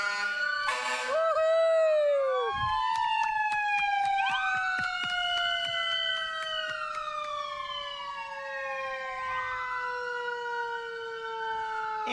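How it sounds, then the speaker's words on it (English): Fire truck sirens wail loudly at the 2025 Westford Apple Blossom Parade, with overlapping sweeping tones rising and falling continuously and rapid clicking pulses running beneath them. "And here are the fire trucks."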